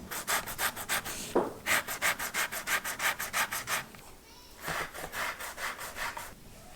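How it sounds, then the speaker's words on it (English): An orange being zested on a grater, with quick, regular rasping strokes in close, rhythmic bursts and a short pause midway. "And I need to zest an orange."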